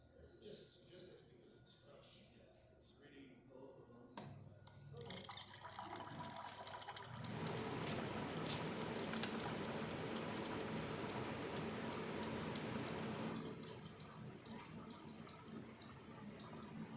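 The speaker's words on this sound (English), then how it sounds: "So let's test the hot water." Hot water pours from a DeLonghi Prima Donna Evo coffee machine outdoors, a steady hissing, splashing stream that starts abruptly partway through and runs for several seconds before easing off, with faint background sounds beforehand.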